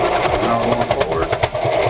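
A sewing machine runs continuously while stitching fabric for a mask, a rapid, even mechanical whir close by, with a voice talking over it.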